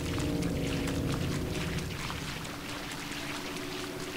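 Water pouring and rushing in the horror platformer Little Nightmares, a dense continuous wash of splashing flow with a low hum beneath, steady and fairly loud throughout.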